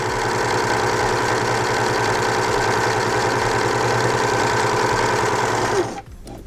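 A sewing machine winds a bobbin with a loud, steady whirring motor hum that runs evenly for about six seconds, then abruptly stops, leaving quiet. Nobody speaks.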